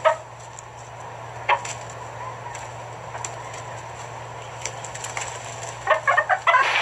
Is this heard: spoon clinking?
no